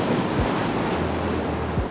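Ocean waves splashing against the rocks of a jetty at Dana Point, California, a loud continuous roar of surf and spray with wind noise buffeting the microphone.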